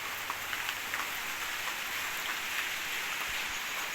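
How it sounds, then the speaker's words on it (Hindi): Steady rain falls outside, a dense even hiss of drops on surfaces with scattered brighter patters, constant and fairly loud, no one speaking. "बारिश हो रहा है, जिसकी वजह से मुझे घर आना पड़ा है"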